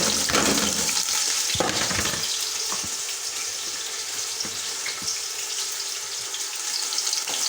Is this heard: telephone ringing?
no